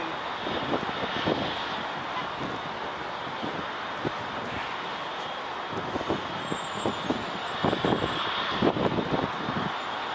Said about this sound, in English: Alaska Airlines Star Wars livery. This is a cool one. Flight 1432, 737-8, 2 hours and 23 minutes, coming from Seattle.